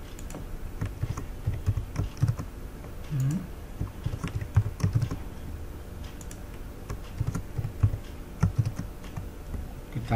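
A computer keyboard is typed on in bursts of close, crisp clicks with short pauses between runs of keystrokes while code is edited, with no talking.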